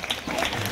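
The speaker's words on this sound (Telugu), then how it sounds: "పక్కన క్లాప్స్ కొట్టండి" A brief burst of steady hand clapping from a small group at a children's games event at the Gunadala shrine, dense and continuous, close-by and moderately loud.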